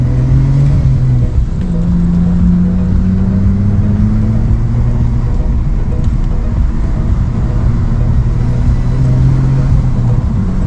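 A Nissan R34 GTR engine pulls hard in first gear on the Mt Fuji hillclimb, its loud droning note climbing steadily in pitch for about ten seconds, heard close from inside the car.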